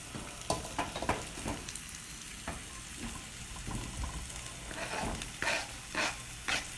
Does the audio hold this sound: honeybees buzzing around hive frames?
no